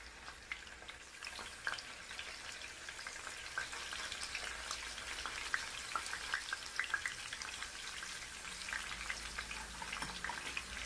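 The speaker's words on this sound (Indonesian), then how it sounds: "Goreng ati ayam yang tadi udah kita rebus." Chicken livers fry in oil, a steady sizzle and crackle with scattered pops and spits from the pan; no one speaks.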